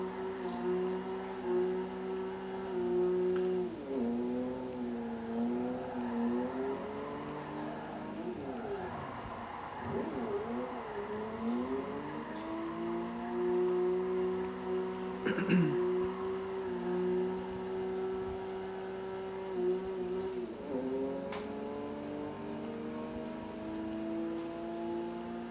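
Simulated car engine in a racing video game, droning steadily and rising and falling in pitch as it revs through drifts, with brief sharp bursts partway through; it runs continuously at moderate loudness.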